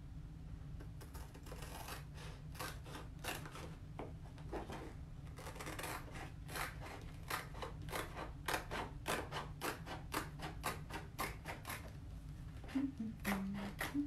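Scissors cutting an iron-on transfer sheet apart, a long stretch of quick rhythmic snips and paper rasps at close range, with no talking.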